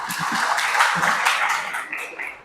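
A church congregation applauds for Tommy during a worship service: dense, continuous clapping that swells and then thins out near the end, with a few low voice-like sounds at the start.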